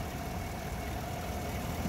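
Under the open hood of a white 2016 Chevrolet Silverado 1500 LT, the 5.3 liter V8 idles with a steady, quiet, even rumble and no voices.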